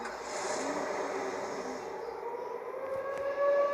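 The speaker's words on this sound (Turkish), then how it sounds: "Duyuyorsunuz arkadaşlar siren seslerini." A steady wailing siren tone in a video game with slowly drifting pitch holds throughout, fairly loud and continuous, with faint engine-like rumble underneath.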